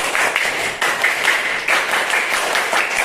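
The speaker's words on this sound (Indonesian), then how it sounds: "1 kali tepuk pramuka." Children in a madrasa classroom perform the rhythmic Indonesian scout clap (tepuk pramuka), a patterned run of group claps in short bursts with brief pauses, lively and fairly close.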